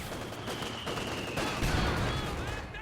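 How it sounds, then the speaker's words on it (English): Mortar fire in Company of Heroes 2 during a 2v2 match: a rumbling explosion and scattered battlefield gunfire, with a whistling tone before a heavier low impact near the end. "There's a mortar from Kpen. Got a nice hit on that Fusilier squad."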